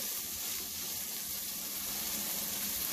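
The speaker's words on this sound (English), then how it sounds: "The only thing really needed to be cooked was that egg and these here onions." Egg and onions frying in a pan for cauliflower fried rice, a steady hissing sizzle, close and even for the whole stretch, with no talking.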